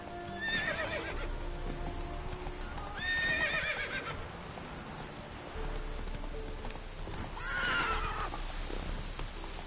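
Roach the horse in The Witcher video game gives three loud neighs spread across the stretch, over steady hooves clopping at a walk with a soft rain-like hiss behind them; no talk.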